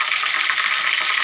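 Cumin seeds dropped into hot oil in a cooking pan, a steady loud sizzle and crackle filling the moment, close and continuous with no voices.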